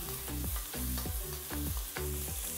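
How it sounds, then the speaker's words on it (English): Shallot, garlic and chili fry in hot oil in a wok, a dense steady sizzle broken by rhythmic scraping strokes of a spatula, close and loud with no voices. "Now I'm gonna add 2 tablespoons of oil. And then add all the shallot, garlic, and chili"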